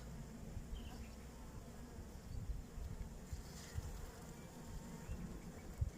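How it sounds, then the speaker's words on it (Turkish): Honeybees buzz steadily around an open beehive during a spring colony inspection, a soft continuous insect drone with a faint outdoor background and no speech. "Ama arı sakin yani."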